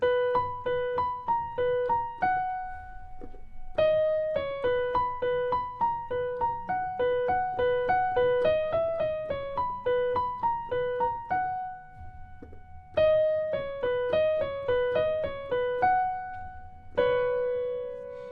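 Solo piano plays a short four-bar melody from a song, with steady repeated chords and clear struck notes, moderately loud and close.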